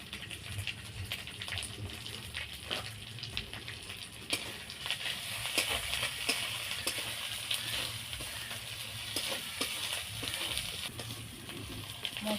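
Spices with salt and turmeric fry in oil for a hilsa fish curry, giving a steady, moderately quiet sizzle and hiss that runs unbroken throughout.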